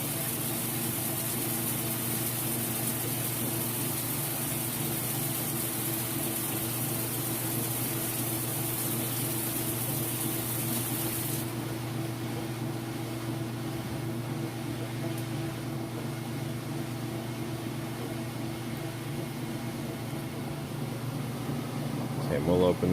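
A Whirlpool washer spinning a load of clothes fast, a steady whirring hum with a constant pitch throughout, close and even, with a brief shift partway through.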